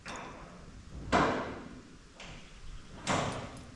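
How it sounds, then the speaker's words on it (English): Metal doors of a shipping-container house being opened, with two distinct clanking knocks about two seconds apart against quiet outdoor background, moderately close. "I'm gonna open up the doors"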